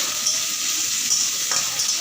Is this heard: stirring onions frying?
yes